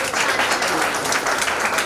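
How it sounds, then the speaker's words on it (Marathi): A crowd at a naming ceremony applauds loudly and steadily, dense clapping filling the whole stretch without a break. "आजी आजोबांसाठी एकदा जोरात टाळ्या म्हणतो"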